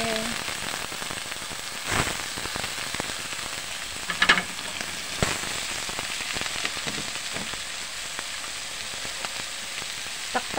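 Chayote sizzling steadily in a hot pan as it sautés, with a constant frying hiss and a few sharper clinks and stirring knocks, no talking.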